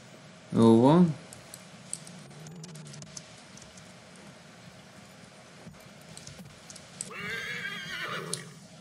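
A horse in Assassin's Creed III lets out one loud, close whinny early on, followed by continued hoof and movement noise and a brighter rustling burst near the end.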